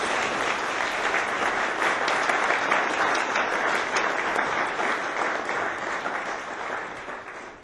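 Audience applause at a First Principles lecture welcoming Richard Brookhiser, a full room clapping steadily and densely at close range, holding strong before tapering off at the end.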